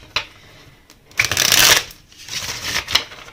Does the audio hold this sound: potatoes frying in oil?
no